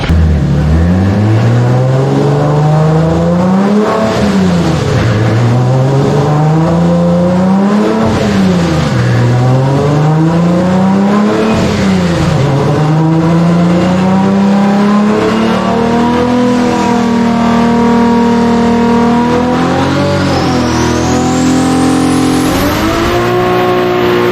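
A boosted car accelerating hard at full throttle, engine note climbing loudly through several gear changes, each rise dropping back before pulling up again, then a long sustained high-revving pull near the end.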